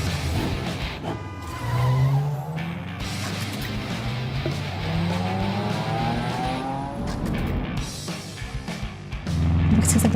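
Cars race in a Hot Wheels racing video game, engines revving and whining with rising pitch sweeps and tire skids, the loud motor noise continuous and building again at the end.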